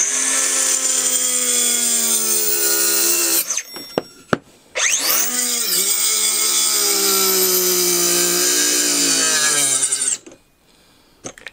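A DeWalt DCS438 mini cut-off tool cuts through wood with a loud, high whining grind. It runs steadily, drops out briefly as the blade stops, then resumes before cutting off near the end.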